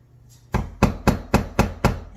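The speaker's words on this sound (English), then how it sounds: "I have my flat tip and my hammer and go around the body line" A hammer taps a flat-tipped chisel carving wood, six sharp, evenly spaced knocks in quick succession, close and clear with no talking.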